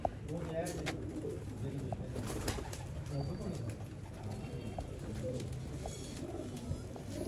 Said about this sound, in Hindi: लाल आंख के ब्रांडेड कबूतर